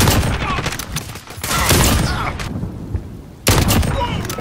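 Rifle gunfire in a video game: close bursts of rapid shots with booming thuds, a pause, then another loud volley. Voices talk between the shots.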